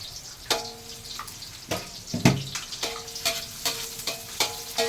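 Sinangag, Filipino garlic fried rice, sizzling in a pan with repeated scraping and stirring strokes, a steady crackling hiss with sharp clatters at irregular intervals, close and fairly quiet, with no talking.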